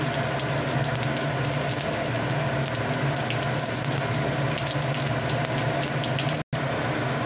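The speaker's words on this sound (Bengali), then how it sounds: "কড়ায় তেল দিয়েছি, শুকনো লঙ্কা দিয়ে দিচ্ছি, জিরে দিচ্ছি, 5 ফোড়ন দিচ্ছি" Dry red chillies, cumin and five-spice seeds sizzle loudly in hot oil in a kadai, a dense continuous crackle close by, broken only by a brief drop-out near the end.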